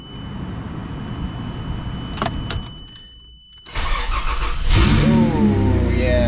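Toyota 80 Series Land Cruiser cranking and firing up after an idle hum, then the engine runs loud and revs slightly as it begins backing out, with a whining squeal near the end.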